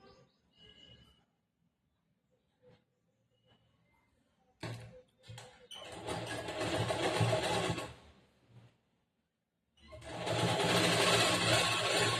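A sewing machine stitches the folded hem of a saree petticoat in two long runs of rapid, even whirring, separated by quiet pauses with faint handling clicks.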